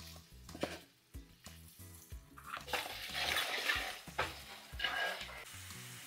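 Onions frying in oil for onion dal, made with red lentils, a soft sizzle with rhythmic stirring scrapes and pan clinks, close by, while someone talks over it.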